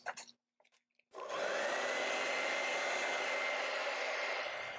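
A hair dryer switches on after a few faint taps and blows steadily at close range, a loud continuous whooshing hum drying acrylic paint on a canvas.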